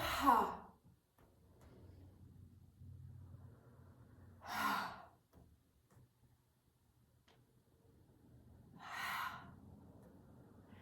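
Slow breathing during a seated chair yoga session, with three soft, separate breath sounds spread several seconds apart in a quiet room and no talking.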